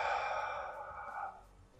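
A single long exhalation during a karate breathing exercise, a breathy rush of air that fades out over under two seconds, close and fairly quiet with no speech.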